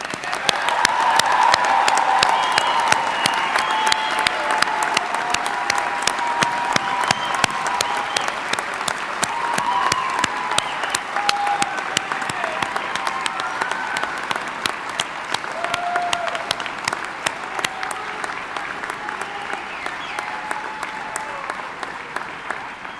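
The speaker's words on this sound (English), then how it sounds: "I invite those in the audience to join me in applauding your success" Sustained audience applause at a Dakota State University commencement ceremony, a long, steady wash of many hands clapping that holds at an even level throughout, with faint voices underneath.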